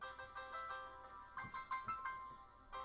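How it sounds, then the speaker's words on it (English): A phone ringtone plays faintly in a room, a short melodic electronic phrase of repeated tones with a few spaced beeps. "It's not my phone."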